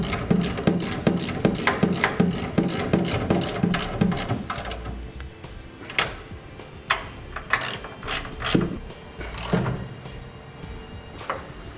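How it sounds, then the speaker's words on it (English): A ratchet wrench clicks in quick, regular bursts while tightening fifth wheel hitch side plates to cross washers on a 2010 Chevrolet Silverado. The bursts are followed by slower, scattered ratchet clicks and metal knocks close by. "We're going to get our side plates tightened to our cross washers."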